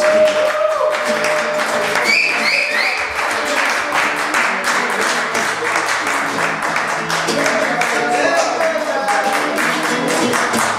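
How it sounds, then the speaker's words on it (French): A concert audience at a tribute event in Toronto claps loudly and steadily throughout, a dense continuous roar of applause with some musical tones and voices mixed in beneath it. "Je vous demande d'applaudir très fort"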